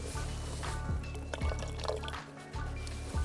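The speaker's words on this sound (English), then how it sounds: "I am going to dump my sample water into the disposal container." Sample water being dumped into a disposal container during a water-quality data collection session, a steady liquid pour with dripping and splashing that runs nearly continuously over a low constant hum, without talk.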